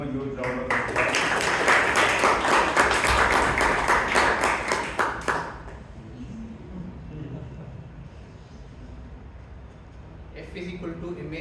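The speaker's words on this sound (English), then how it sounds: "Please give him a huge round of applause." A crowd at a Bangalore Toastmasters club meeting claps loudly for about five seconds, then the applause drops away and quieter talking carries on.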